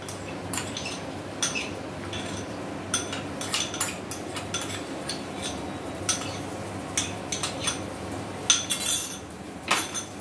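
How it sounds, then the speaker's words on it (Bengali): A metal spatula clinks and scrapes against a wok, stirring washed Gobindobhog rice with spices, a busy run of sharp irregular clatters over a low kitchen hum, close and without talk. "এবার চালের সঙ্গে মশলাটা মিশিয়ে নিয়ে আবার ভালোভাবে কষাতে হবে"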